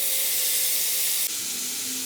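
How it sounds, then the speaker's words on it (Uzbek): Onion and chicken fillet fry in a pan over medium heat, giving a steady close hiss and sizzle that shifts slightly partway through as the sizzle settles. "piyoz bilan tovuqni qovuramiz"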